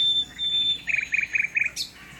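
Nightingale singing close by near its nest in bushes, a clear whistled note followed by a rapid series of four bright, evenly spaced chirping phrases.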